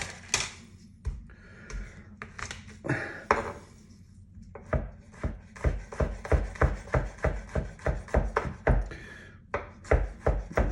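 A single garlic clove being crushed with salt on a board, likely with a knife blade, while cooking flat iron steak with dauphinoise potatoes: a run of close, rhythmic scraping and pressing knocks, quickening toward the end, with no talk.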